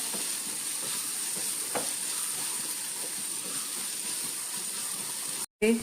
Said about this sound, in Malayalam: ഏത്തക്കായും കൂടി ഇട്ടൊന്ന് രണ്ടും കൂടി ഒന്ന് നല്ലോണം ഒന്ന് ഫ്രൈ ചെയ്തെടുക്കാവേ